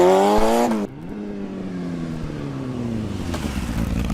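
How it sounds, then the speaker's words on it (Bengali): A cartoon motorbike rides away with a buzzing engine tone that drops sharply, then holds a steady, slowly falling drone as it pulls off into the distance. "এই বলে বল্টু তার বাইক নিয়ে বাঘুর কাছে যাওয়ার জন্য রওনা দেয়।"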